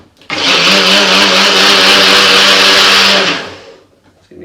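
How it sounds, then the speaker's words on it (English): A kitchen blender whirs loudly and steadily for about three seconds, blitzing Bloody Mary mix made with Black Cow vodka, then spins down and stops; no talking over it. "So we'll pop that on the blender just for a few seconds."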